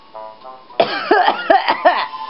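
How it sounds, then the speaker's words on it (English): A few harsh, rasping coughs in quick succession, close and moderately loud, after a faint tonal sound at the start, while playing Yoshi and Poochy's Woolly World. "That made me cough."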